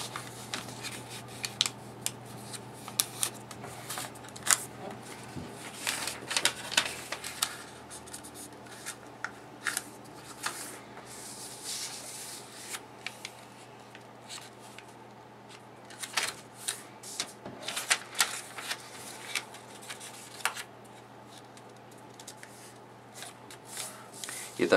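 Paper is creased and folded by hand while making a double paper popper origami: crisp rustles, rubs and sharp creasing snaps come in scattered bursts while a voice talks over them.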